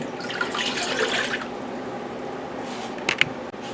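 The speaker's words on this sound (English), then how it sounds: "I have 3 cups cider vinegar here going in" Cider vinegar, three cups, pours into a pot for canning peppers, a steady close liquid splash and trickle that ends with a few small drips and clinks.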